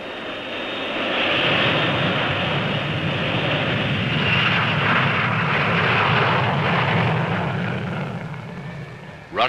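Russian bomber engines roar at Cairo West airfield as a loud, steady drone that swells gradually, holds strong through the middle and eases slightly toward the end, with no voices over it.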